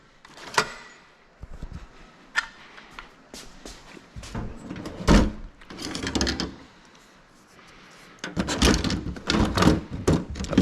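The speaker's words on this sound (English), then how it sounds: "This can go in my junk drawer." A junk drawer in a workshop slides open and shut several times, with close, loud rattling thumps and scrapes of the loose tools and parts inside, separated by brief quieter gaps.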